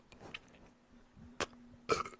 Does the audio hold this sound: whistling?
no